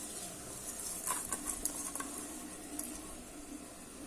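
Soaked ponni rice goes into a pot of drumstick biryani, giving a soft patter and gentle sizzling stir, quiet and close with a short burst of grainy rustles.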